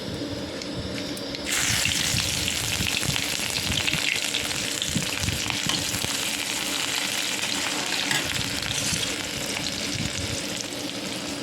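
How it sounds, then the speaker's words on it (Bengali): Onions drop into hot oil already tempered with dry red chillies and cumin seeds, and a loud, steady sizzle swells up close and continues without pause. "প্রথমে তেলটা গরম হয়ে গেলে একটু শুকনো লঙ্কা জিরা ফোড়ন দিয়ে দিলাম তারপর আমি পেঁয়াজটা দিয়ে দিলাম"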